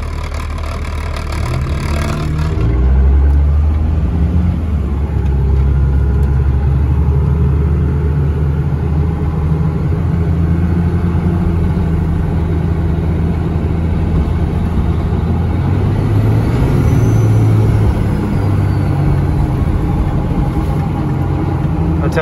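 A 12V Cummins diesel truck, a red one with nuts and bolts rattling, drives with a deep steady low engine rumble throughout, swelling slightly as it revs, close and loud with no talk.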